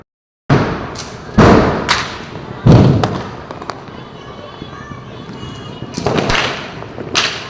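Several sharp Diwali firecracker bangs burst out in irregular succession, loud and close, with booming echoes trailing after each.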